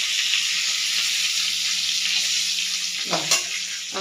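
Prawns and rohu fish fry in hot oil in a pan, giving a loud, continuous sizzle close by. A brief scrape of stirring comes near the end, and no voices are heard.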